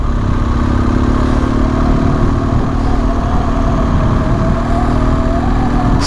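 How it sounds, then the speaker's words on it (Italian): A motorcycle engine drones steadily and loud throughout, a constant rumble of bikes passing on a rough mountain road, with no pauses or talk. "Altre moto."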